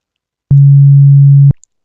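Synthesized low 140 Hz sine tone from a C# audio synthesizer, one steady pure hum lasting about a second with abrupt clicks at start and stop, alone in silence.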